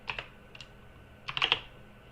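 Computer keyboard typing comes close and clear in two short flurries of crisp key clicks separated by a brief pause, with no voices.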